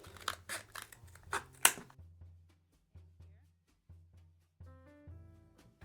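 Scissors snipping a cardboard toilet paper roll into a ring, a few crisp cuts close to the microphone followed by quieter clicks, with no talking.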